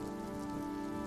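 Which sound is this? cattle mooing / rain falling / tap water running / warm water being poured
rain falling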